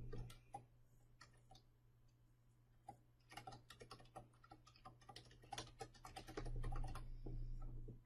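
Someone types an email address on a computer keyboard while applying online to a community college, with quick irregular clusters of key clicks over a faint steady hum.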